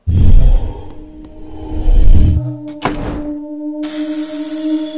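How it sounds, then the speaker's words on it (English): Exploding coin in the mobile game Dungeons & Miners: a loud, heavy thunk and rumble that cuts off abruptly, followed by a short crackling burst and a sustained bright game tone. "Exploding coin."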